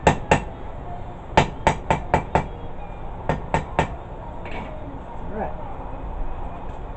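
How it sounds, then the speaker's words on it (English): Sharp ringing hammer blows on metal, forging a herb chopper, come in quick rhythmic bursts of several strikes each, close and loud, then stop as faint voices murmur. "I was getting a little bit too heavy with my hammer strokes"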